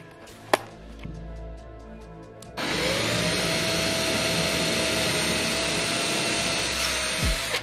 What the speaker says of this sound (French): Je peux percer les trous.